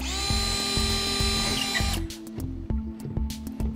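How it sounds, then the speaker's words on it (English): A power drill bores a small pilot hole, giving a steady high whine that drops to a lower, rougher grinding as the bit bites in, close and loud with no speech. "first thing we're going to do is we're going to drill a little pilot hole."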